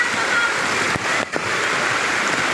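Floodwater from a typhoon rushes steadily in a broad, loud wash that fills the scene, broken by a couple of brief dips and splashes, with no voices over it.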